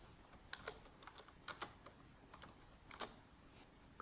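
Password keystrokes on a computer keyboard while setting up BitLocker encryption for a USB flash drive: a quiet, irregular patter of light clicks in small bursts, with no talk.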